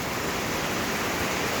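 A waterfall at Lonavla roars in a dense, unbroken rush of falling water, loud and close, with no voices over it.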